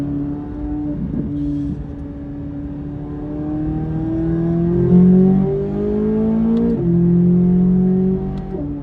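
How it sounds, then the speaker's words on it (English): Sports car, a Corvette-class performance car, accelerating hard at full throttle; a loud, close engine note rises steadily in pitch with a couple of gear shifts, steady and continuous with no talking. "I gave it full throttle for about 2 seconds, and you're hitting the kind of speeds that are going to get you in trouble"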